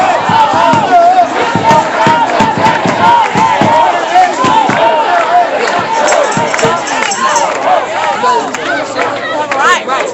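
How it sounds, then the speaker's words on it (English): A very large crowd of demonstrators with drummers approaching from behind, loud continuous shouting and chanting with sharp repeated drum hits punching through the roar, close and dense for the whole stretch. "This is a very, very large crowd."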